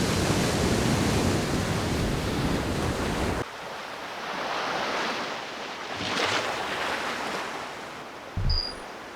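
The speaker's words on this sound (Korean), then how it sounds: "이곳은 바람 많고 파도 거칠기로 유명한 제주 바다입니다." Rough surf and strong wind off the Jeju coast, a dense roaring wash that drops abruptly partway through to softer, gusty swells, with a brief low thump near the end.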